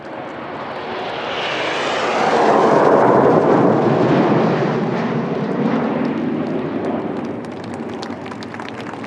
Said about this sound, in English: these aircraft are operated by Number 76 Squadron at RAAF Base Williamtown near Newcastle